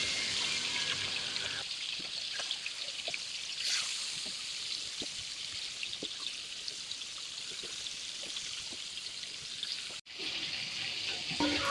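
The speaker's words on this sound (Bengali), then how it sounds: "আমি প্রথমে কড়াইতে তেল দিয়ে আগে মাংসগুলো ভেজে নেব ভালো করে" Meat frying in hot oil in a wok, a steady dense sizzle that runs throughout with faint scraping ticks, briefly cutting out near the end before resuming.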